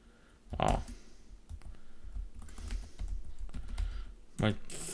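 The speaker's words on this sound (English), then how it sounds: "My fingers were typing mindlessly." Computer keyboard typing in a quiet room during a Gentoo Linux install, with soft irregular key clicks throughout and two louder, sharper clacks near the start and end.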